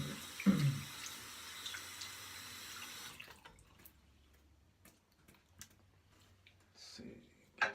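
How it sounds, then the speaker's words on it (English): Water runs from a sink tap and splashes as hands wet a face before shaving, a burst up close at the start, then quieter trickles, drips and small clicks over a low hum. "I'll wet my face and we'll get started."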